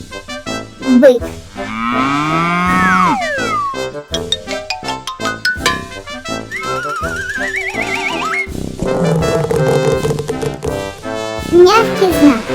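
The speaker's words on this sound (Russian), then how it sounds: "бык." A cartoon bull moos in a children's animated short with no dialogue, giving a drawn-out, rising and falling call set among other bright cartoon sound effects and music-like tones.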